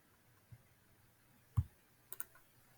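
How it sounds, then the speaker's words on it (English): A computer mouse clicks while shapes are edited in Adobe Illustrator, a few sharp, faint clicks, one single then a quick double, in a quiet room. "So I'm clicking and dragging that."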